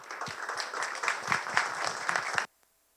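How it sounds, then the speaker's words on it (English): Conference audience at the Asan China Conference gives a warm round of applause to a speaker taking the stage, dense steady clapping from a crowd that stops abruptly near the end. "Please give him a warm round of applause."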